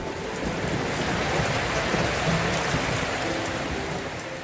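Dense, steady rush of monsoon rain falling in rural Bangladesh, constant and fairly loud throughout with no voices.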